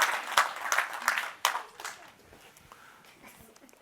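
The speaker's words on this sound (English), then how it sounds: "Clap it up for him." A workshop audience applauds a participant with a burst of hand clapping that is loud at first, then thins out and fades into a quieter room after about two seconds.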